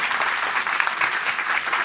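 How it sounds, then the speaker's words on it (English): Audience applause at a live science podcast show, a continuous dense wash of clapping from a sizable crowd, steady and fairly loud throughout with no pauses. "Everybody give yourself a round of applause."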